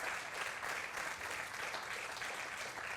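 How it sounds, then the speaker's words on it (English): Steady applause from a crowd for the pole-position winner brought on stage at a MotoGP event in Misano, a continuous dense wash of clapping lasting a few seconds, without speech. "let's give him a round of applause"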